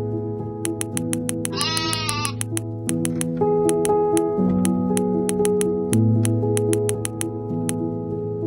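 A single sheep bleats clearly once over a plinking, music-box-like tune with a steady ticking beat. The tune continues alone after the bleat.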